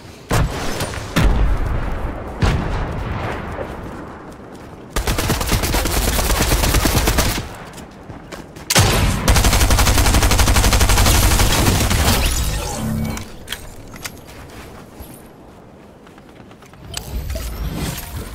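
Video game gunfire during a PC battle: rapid bursts of automatic fire and single shots, loud and dense, broken by brief pauses, with booming impacts and continuous action sounds.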